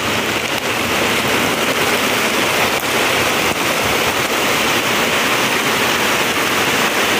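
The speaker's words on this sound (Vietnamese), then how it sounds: "Quá trời mưa lớn rồi." Heavy rain pours down steadily in a rural area during the windy season, a loud, dense, continuous hiss that fills the whole clip with no voices.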